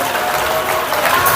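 Church congregation clapping loudly and steadily during a Hindi sermon, a dense, continuous wash of applause with no voices standing out.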